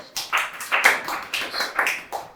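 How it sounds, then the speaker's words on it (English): Applause breaks out from a stand-up comedy audience in a quick run of short, rhythmic bursts of clapping at moderate loudness, with no talking over it. "Applause. Applause."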